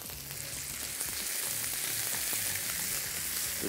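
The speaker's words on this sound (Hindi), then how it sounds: "जैसे ही लहसुन हल्का सा फ्राई हुआ, इसमें हाथ का कीमा हम आधा किलो शामिल कर रहे हैं और इसको थोड़ा सा पहले भुनेंगे।" Half a kilo of hand-minced meat frying with lightly browned garlic in a pan, a steady close sizzle and crackle with occasional stirring, no voices.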